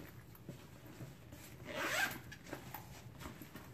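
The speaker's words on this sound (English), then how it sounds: "So it's got a big zip pocket in the back all the way across." The zipper on a large back zip pocket of a Longchamp bag is pulled once in a quick, close rasping run, set among quiet handling rustles with no speech.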